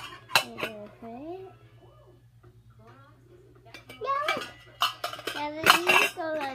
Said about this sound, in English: Now here are all of these pots and pans.